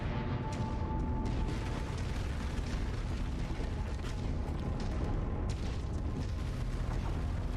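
Heavy rumbling blast from a destroyed enemy mech in a MechWarrior game, a dense, sustained boom layered over continuous battle noise and mechanical din, loud and without a voice.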